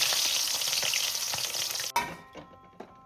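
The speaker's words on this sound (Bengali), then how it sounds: "এবার মাছের মাথাগুলোকে এক করে ভেজে নেব" Fish heads fry in hot mustard oil with a loud, dense sizzle that cuts off abruptly, followed by a few sharp spatters and the scrape of a spatula.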